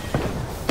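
A grenade going off in an Apex Legends match, a muffled thump early on, then a sharper, louder burst at the close of the short stretch of game noise.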